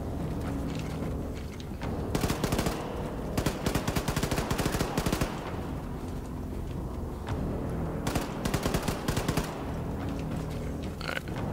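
Gunfire in Wolfenstein II: The New Colossus, sustained rapid automatic bursts over a constant loud rumble of combat, with clusters of sharp shots repeating through the whole stretch, close and dense.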